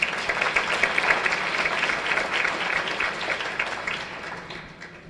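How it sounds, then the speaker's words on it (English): Audience applause at a breast cancer symposium, a steady wash of many hands clapping for several seconds, fairly close and even, tapering slightly toward the end with no voices over it. "One more round of applause for all of our sponsors."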